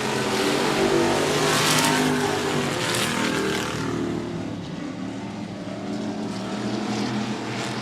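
Race cars at 105 Speedway roar around an oval in a continuous loud engine drone, sustained and steady with a slight easing as the pack passes.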